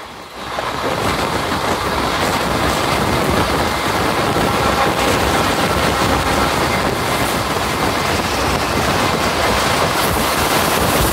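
A Bhanga commuter train running along the Mawa expressway, a loud, steady rumble and wind roar heard from on board, continuous for the whole stretch with no talking.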